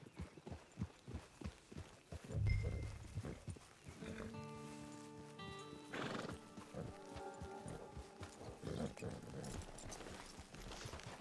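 Horse hooves clip-clop steadily in a video game scene as a horse is fetched near a camp, with whinnies and neighs rising over music and some talk in the background.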